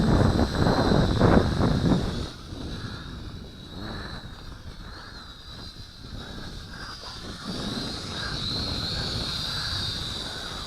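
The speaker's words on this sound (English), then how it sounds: "Let's fly it more aggressively now." A Syma X5C quadcopter drone flying in wind, its thin high motor whine steady over heavy gusty wind buffeting the microphone, moderately close with no talk.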